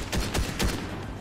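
Gunfire in the video game Fortnite, several quick shots in an uneven burst, sharp and fairly loud, with no talking over them.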